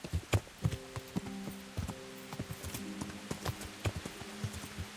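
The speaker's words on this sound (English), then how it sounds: "We'll gallop around in the fields." Horse hooves clip-clopping at a gallop in the medieval game Kingdom Come: Deliverance, a steady rapid rhythm of close, sharp hoofbeats over rocky ground, heard alone.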